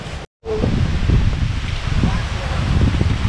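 Wind blows outdoors at Sampalok Lake in San Pablo, a loud, continuous rushing and rustling that batters the microphone, broken only by a split-second dropout near the start.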